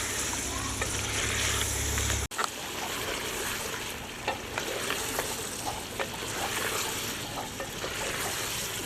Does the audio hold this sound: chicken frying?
yes